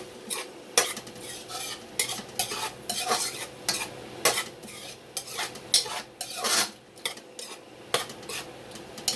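Steak chunks with mushrooms fry in a pan while a utensil scrapes and stirs repeatedly, sharp metallic scrapes recurring every second or so over a low background sizzle.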